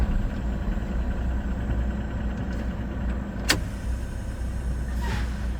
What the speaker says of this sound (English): put the truck in drive. I'm going to hold this down. I'm going to give it a little bit of gas.